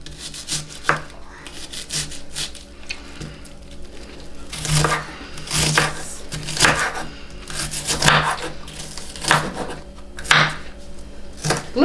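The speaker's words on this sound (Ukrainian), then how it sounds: "Тепер нарізаю кубиками цибульку." A knife dices an onion rapidly on a cutting board, irregular clusters of crisp taps and scraping strokes up close.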